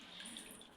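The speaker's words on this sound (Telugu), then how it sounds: "నేనైతే వాటర్ బెలూన్స్ అయితే నింపుతున్నాను" Tap water running steadily while filling water balloons at a home Holi celebration, a continuous close hiss and splash with no voices, loud and unbroken through the short moment.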